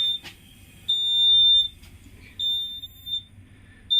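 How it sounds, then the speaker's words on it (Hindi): During the self-check of a WAG9 three-phase electric locomotive, a cab alarm gives a sharp short beep, then several longer high-pitched tones, clear over a low hum. "देखिए ब्लिंक हो रहा है एक बीप साउंड के साथ"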